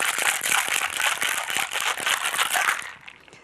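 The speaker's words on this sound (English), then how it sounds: "So I'm going to go ahead and shake it." A cocktail shaker is shaken hard, rattling ice against the tin in a fast, steady rhythm while mixing a martini with cilantro and cucumber, loud and close before stopping abruptly near the end.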